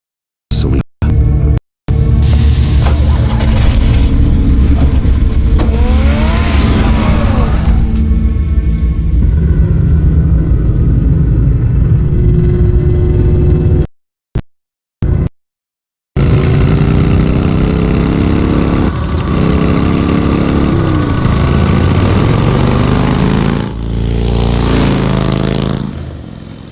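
The Batmobile's engine in the video game Batman Vengeance roars and revs loudly as the car drives, with a couple of brief silent gaps breaking the sustained engine noise.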